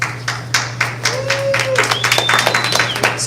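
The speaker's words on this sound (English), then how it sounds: "Starting off with a round of applause" A room of people at a talk on web operations claps in a round of applause, scattered steady clapping with a faint whistle rising above it.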